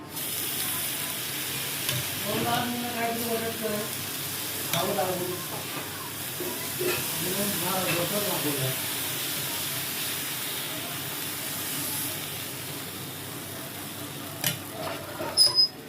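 A semolina and yogurt chila fries on a hot griddle with ghee, giving a soft steady sizzle with a few brief scraping and stirring sounds from the spatula, fairly quiet throughout.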